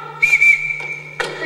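A sharp, steady whistle blast holds one high pitch for about a second, followed by a shorter burst, loud and close with no talking, during a high school stage performance of The Sound of Music.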